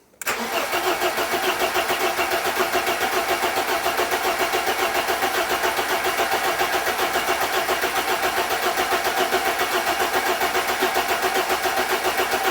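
A 1980s BMW M Sport homologation car with fuel injection, a barn find parked for years, is cranked by its starter in a fast, steady, loud pulsing churn that continues for about twelve seconds without catching.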